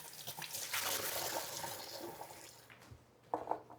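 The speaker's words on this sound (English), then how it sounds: "these aren't dirty at all, so they just need a rinse" Potatoes being rinsed under a running kitchen tap for mashed potatoes: a steady, close rush of water for about two and a half seconds, then a quieter stretch with a few splashes and knocks, alone.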